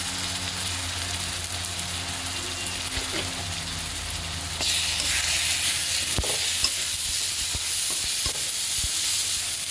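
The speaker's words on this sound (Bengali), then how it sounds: "এবার সব মশলা একসাথে মিক্স করে কষিয়ে নিচ্ছি" Ground spices and onion paste being stir-fried in a pan for a bhetki fish curry, a continuous close sizzle that grows louder about halfway through, with scattered clinks of a spatula against the pan.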